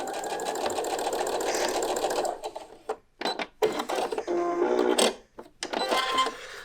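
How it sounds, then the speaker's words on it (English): A sewing machine stitches around the edge of a fabric crown, whirring loudly in bursts with short stops and restarts close by. "I'm just going to sew around this edge"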